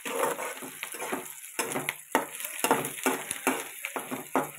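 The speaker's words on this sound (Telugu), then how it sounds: "ఉల్లిపాయలు వేపుతున్నాను, వేగాలి." Onions fry in a pan with crackling sizzle and repeated scraping, stirring bursts, close and fairly loud throughout.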